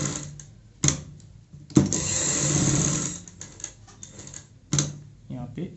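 Sewing machine stitching the side seams of a girl's frock, short mechanical runs of rapid clattering needle strokes separated by pauses and clicks, with a voice speaking between the bursts.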